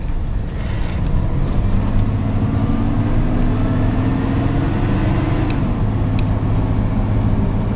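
A car engine holds steady at medium throttle inside the cabin, making a constant droning hum with road noise and a slight rise and fall in pitch. The sound is loud and continuous, with no talking.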